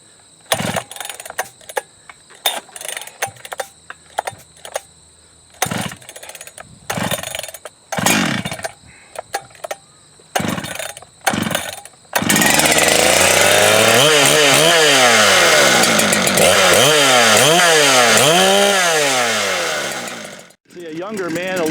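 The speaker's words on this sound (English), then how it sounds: "I don't have the arm strength I once had to get the snap that this saw needs in order to get it fired" Holzfforma G395 chainsaw with the choke in at high idle, pulled several times in a row, then firing up and running loud and steady with throttle swells before cutting off near the end.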